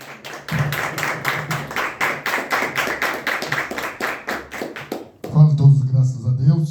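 A church congregation claps for Jesus at an outdoor service, a fast, steady run of close handclaps lasting about five seconds before stopping abruptly as a voice speaks.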